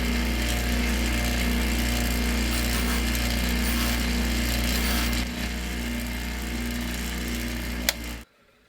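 A power tool scuffs and tapers the copper nose of a handmade vintage-style screwdriver, a loud, steady grinding whine that shifts slightly midway, then stops abruptly near the end.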